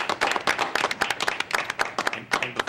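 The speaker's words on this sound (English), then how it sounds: "like to give you a round of applause" A small group claps at the close of a city plan commission meeting, with distinct, fairly close handclaps in an uneven patter that thin out toward the end.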